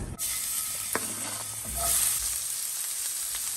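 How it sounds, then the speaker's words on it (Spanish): Chopped garlic and half an onion hit hot oil in a frying pan, bursting into a close, bright sizzle with a few stirring clicks, the crackle holding steady over a few seconds without speech. "Voy a agregar 2 ajos picados y media cebolla picada."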